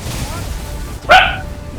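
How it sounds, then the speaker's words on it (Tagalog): A single sharp dog bark rings out close by after a moment of muffled background noise. "nagalit yung aso"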